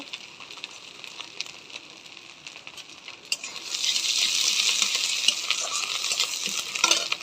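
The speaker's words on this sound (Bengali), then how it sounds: "তেলের ভিতরে আমি শুকনো লঙ্কা সই পাটা আর গোটা জিরে ফোড়ন দিয়ে নেব" Dried red chillies, bay leaf and whole cumin tempering in hot oil, starting with light stirring clinks and scrapes, then a loud hissing sizzle that swells up and holds, close by, with utensil clicks throughout.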